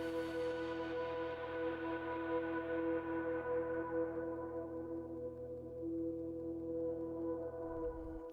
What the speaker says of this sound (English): I have this drone that I kind of like here